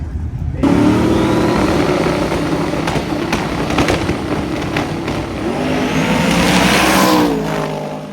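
The Blasphemi drag car launches hard at Drag Week, a loud close engine roar climbing through the revs as it accelerates away down the strip, with brief sharp pops along the run.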